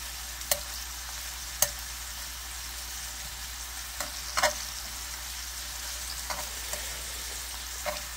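Thin-sliced pork belly sizzling on a grill: a steady, quiet frying hiss with occasional sharp pops and crackles spaced irregularly, heard close up with no talking.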